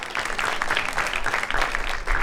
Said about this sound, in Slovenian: Lahko ji zaploskamo.